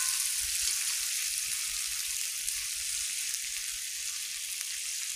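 Vegetables and spices fry in a pan for a bori fish curry, giving a steady, close broadband sizzle with soft low knocks of stirring throughout.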